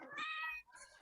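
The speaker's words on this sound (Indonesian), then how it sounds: "Meong. Nangis." A single cat close by lets out one clear, drawn-out meow, followed by a short softer sound. The room is quiet around it.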